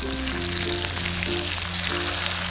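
Pearl spot fish frying in a pan, one side cooking as it is prepared for pollichathu, giving a steady, close, even sizzle of hot oil throughout, with no talking.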